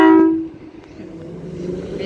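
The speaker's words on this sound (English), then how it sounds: "Got the horn." An electric multiple-unit passenger train on a Perth service sounds its horn while departing a station platform: a loud, sustained tonal blast at the start that cuts off within half a second, leaving lower rumbling train noise.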